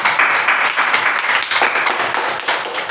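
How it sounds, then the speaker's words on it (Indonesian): A crowd applauds steadily for three seconds, many hands clapping in a dense, bright patter at fairly close range. "beri tepuk tangan untuk kelompok 2"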